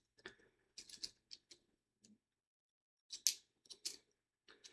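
Typing on a keyboard that sounds like an old-school model, sparse clusters of sharp clicky keystrokes in short bursts separated by quiet gaps, close and fairly faint.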